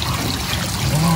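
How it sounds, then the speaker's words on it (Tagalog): Floodwater trickles and streams out near a bamboo hut during a river flood, a steady close wash of flowing water with a voice talking over it. "Tapos lumalabas na rin po ang tubig dito."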